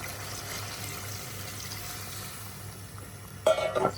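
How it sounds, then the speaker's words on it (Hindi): Water is poured into hot separated oil in a cooking pot of saalan: after a low, quiet simmer, a sudden loud splash and sizzle bursts up close for the final half second. "अब इस टाइम हम जो है ना इसमें डालेंगे पानी"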